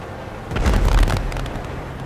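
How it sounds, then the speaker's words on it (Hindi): A deep, booming explosion in GTA Online gameplay swells and rumbles for about a second, then fades into a low background drone. "अरे ये धमाके कहाँ हो रहे हैं"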